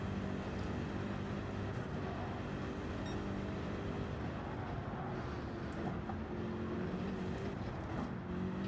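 A race car in Gran Turismo 7 on the Nürburgring Nordschleife in reverse, slowing down, its engine a steady low drone under faint high whines, with no sharp events.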